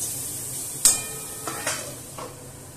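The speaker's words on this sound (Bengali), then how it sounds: "অনেকবার এইভাবে ঢাকনা তুলে নাড়া দিয়ে আর আবার চাপা দিয়ে দেবো" Mango chutney cooks in a pot without water; a sharp metallic clank from the lid is followed by several scraping stirs over a faint sizzle.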